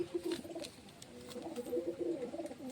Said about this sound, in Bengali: দারুণ পায়রা রয়েছে